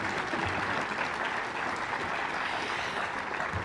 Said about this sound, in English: Give these guys a big round of applause again.